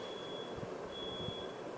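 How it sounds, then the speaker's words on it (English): A smoke detector's alarm beeps indoors as a steady high-pitched tone, faint and running through most of the moment, briefly dropping out partway, over low background hum. "stupid fire smoke detector bullshit's going off"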